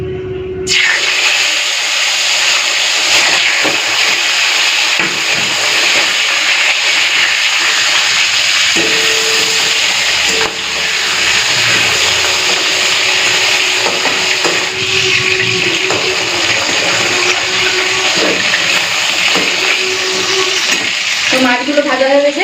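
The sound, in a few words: pomfret fish frying in hot oil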